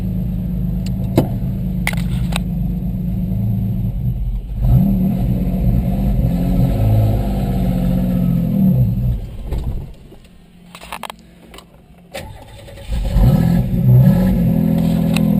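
A modified 1990 Isuzu Trooper engine revs and rumbles while driving, loud and close, surging in repeated accelerations with a brief drop to quieter idle before climbing again.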